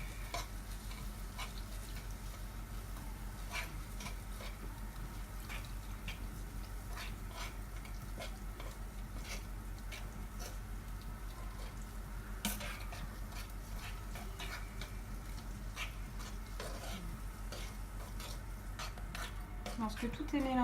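Sautéed onions stirred with a little water in a pan, a spoon scraping and clinking against the metal under a constant low sizzle, steady and fairly quiet throughout.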